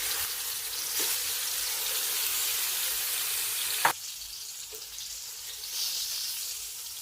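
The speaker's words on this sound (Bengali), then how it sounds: "তেল গরম হয়ে গিয়েছে, এবার মাছগুলো দিয়ে দিব।" Pieces of rohu fish fry in hot oil in a pan, a steady close sizzle and crackle with a sharp spatter burst partway through, then a softer hiss.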